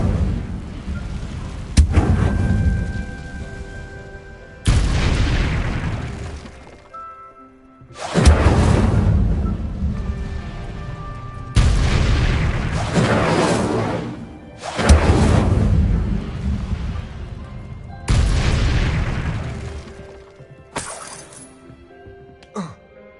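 Incendio fire spells detonate in a video game as a series of six heavy booming blasts, evenly spaced every few seconds, each followed by a rumbling, crackling decay.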